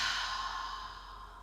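A single soft, breathy open-mouth exhale during a prenatal yoga session, heard close and quiet, fading gradually over about a second.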